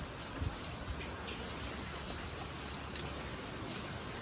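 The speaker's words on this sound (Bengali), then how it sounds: "ওই যে ভালো বৃষ্টি হচ্ছে" Steady rain falling outdoors, a soft continuous hiss with scattered nearby drips and taps on surfaces, fairly faint, with no one talking.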